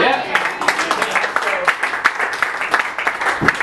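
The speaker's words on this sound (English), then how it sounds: "so round of applause" A small audience at a poetry reading and print celebration claps, with irregular close handclaps in quick bursts throughout and voices speaking through the applause.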